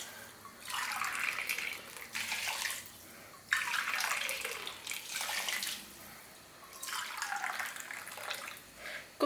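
Boiling water is poured into a pot of soaked rice with chicken gravy, three separate splashing pours of a few seconds each, the stream rushing and gurgling close by, with no speech.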